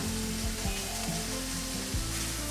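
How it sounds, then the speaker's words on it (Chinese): Minced ginger sizzles steadily in hot oil, a dense continuous frying hiss with occasional stirring scrapes, no talking. "鍋內放入適量的油，把薑末炒香，不停的炒"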